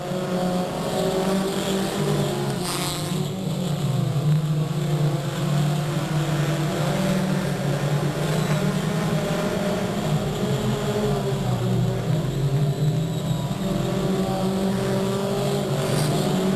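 Mini stock race cars roar around the Delta Speedway oval during a 1998 heat race, a dense, continuous engine drone from several cars with rising and falling pitch, loud and steady throughout.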